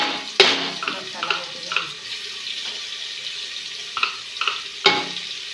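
Stirring a masala of roasted tomato, ginger, garlic and ground cinnamon with salt in a pan, giving scattered scraping clicks and a few sharper knocks over a soft sizzle, close and moderately loud.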